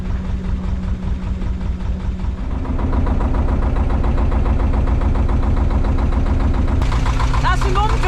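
A canal narrowboat's diesel engine runs steadily with a low, rhythmic chug on the Ashton locks in Manchester, loud and close throughout, growing slightly heavier partway through, with a brief clatter near the end.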